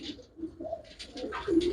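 Pigeons offered for sale at a pigeon market give soft, low cooing in a few short throaty phrases, close by and fairly quiet.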